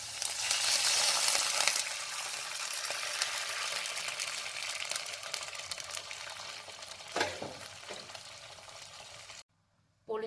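Chicken stock goes into a hot, sizzling pan for chicken soup, making a loud hissing spatter that slowly settles into a softer steady sizzle and then cuts off briefly near the end.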